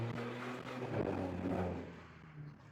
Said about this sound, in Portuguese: dar aquela aceleradinha básica